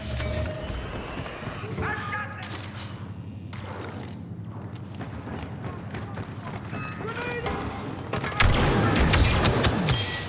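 A grenade goes off in Star Wars Battlefront 2 during busy blaster gameplay, a single loud blast erupting late on over running footsteps and scattered gunfire.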